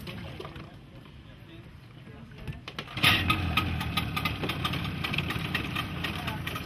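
A small river boat's engine runs as it leaves a dock past waterside houses, a low rumble that grows louder and busier partway through with splashy, rattling clatter.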